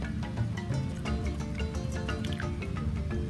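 Freshly boiled dandelion tea is strained into a cup, giving a close run of wet drips, splashes and trickling pours with a squishy texture, no voices.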